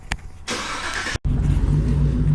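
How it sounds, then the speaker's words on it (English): A broad burst of engine noise, a brief cutout, then the 6.2-litre L86 V8 of a 2017 GMC Sierra pickup revving loudly up close with a deep rumble. "we'll give you guys a little rev there"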